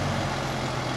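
A Fuso 220 PS tanker truck carrying fish reverses nearby, its engine a steady low rumble throughout with no clear beeping, continuous and fairly loud.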